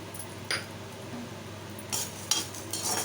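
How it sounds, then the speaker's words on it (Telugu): Urad dal and toor dal roast in a pan with curry leaves and garlic cloves for idli powder, with a spatula scraping and clinking against the pan in several quick, fairly soft strokes over a faint sizzle. "ఇవి కూడా కాస్త గోల్డెన్ కలర్లో వచ్చే విధంగా ఫ్రై చేసుకోవాలి"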